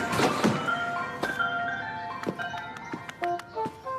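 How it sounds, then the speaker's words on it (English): A cartoon ice cream truck drives along a street and hits a pothole, with a jingling tune, a few sharp bangs and clattering knocks spread across the moment. "I see that the ice cream truck will hit a pothole in the street"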